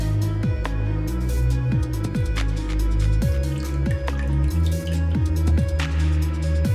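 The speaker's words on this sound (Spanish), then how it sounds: "voy a agregar un chorrito de aceite" Oil poured in a thin stream into water in a cooking pot on a kitchen stove, making steady close liquid drips and squishy trickling sounds with repeated falling pitched tones throughout.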